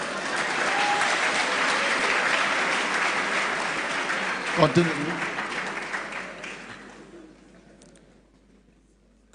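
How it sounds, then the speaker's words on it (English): Audience at a tech conference in Akwa Ibom applauding, a dense steady wash of clapping that gradually thins and dies away, with scattered voices mixed in. "All the guys clap now."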